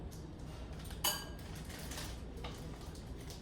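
Grapes are dropped into a bowl, making one clear clinking knock followed by softer rattling and tumbling sounds against a steady room noise.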